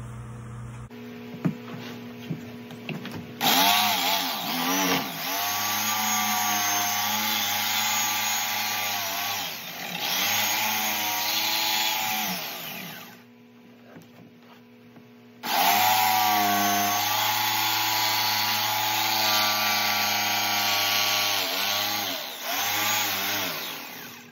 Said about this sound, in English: Then them two is ready to go to cut out with a jigsaw.